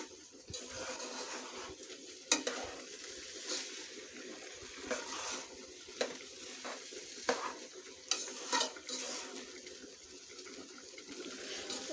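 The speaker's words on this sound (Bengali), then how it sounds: "চালটা ভাজা হতে হতে" Rice and mung dal frying in a pan for khichuri, a steady sizzle broken by irregular scraping clacks as a spoon stirs, close up and with no voices.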